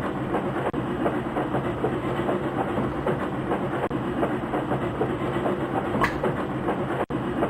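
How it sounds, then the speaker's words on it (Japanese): A train runs steadily on rails in the 3DO video game Montana Jones, a continuous rumbling clatter with rhythmic clickety-clack at close range and no talk over it. "これは貸し切り列車だ。"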